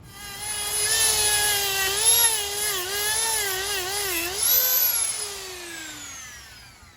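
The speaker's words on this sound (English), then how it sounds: "So we got our Dremel with some sandpaper." A Dremel rotary tool fitted with sandpaper, working on a 1966 Ford Mustang, gives a high whining buzz whose pitch wavers and dips under load, then winds down near the end.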